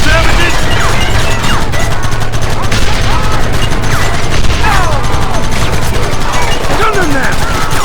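Gunfire rattles through a shootout in the video game Red Dead Redemption, with dense overlapping shots and bursts in a loud, continuous barrage while voices shout over it.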